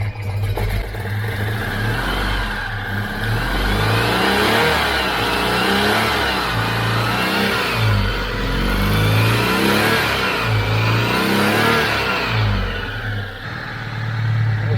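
A Citroen 2CV fitted with a swapped engine runs roughly, a steady, uneven loud mechanical drone with pulsing throb and a peculiar noise, alone without talk.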